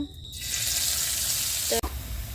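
Spices fry for a samosa potato filling, giving a loud, steady sizzle that swells in just after a brief quiet start, with a short knock of a utensil near the end.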